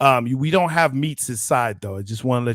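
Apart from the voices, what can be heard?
No distinct noise like a dog, phone or traffic.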